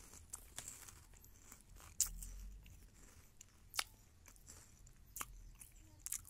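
Garuda Skippy peanut butter mini ball snacks are crunched in close, quiet bites, with a few sharp crisp cracks spaced apart and soft chewing between them.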